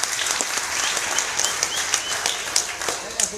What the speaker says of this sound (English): Let's have a little round of applause for our volunteer.